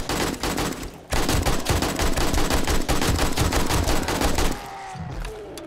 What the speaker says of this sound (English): Basically a full clip to kill him with the AK.